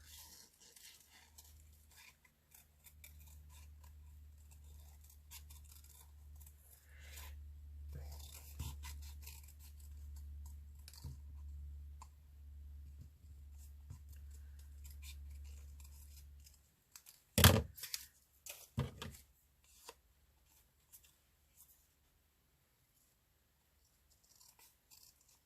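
Scissors snip around the outline of a paper butterfly for a vellum tag, a few close, sharp cuts standing out briefly over a low steady hum before the room falls quiet.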